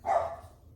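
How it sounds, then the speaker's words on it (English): A dog gives a single short bark somewhere in the background of a home, fairly faint and fading quickly. "Sorry if you hear barking in the background, it's my dogs."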